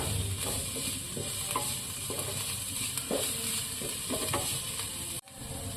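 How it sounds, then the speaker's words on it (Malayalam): Ginger and green chillies sauté in a pan for upma, giving a steady close sizzle with soft spoon stirs and scrapes throughout, then a brief dip near the end. "അതും കൂടെ ഇട്ട് നമുക്ക് ഒന്നും കൂടെ വഴറ്റിയെടുക്കാം"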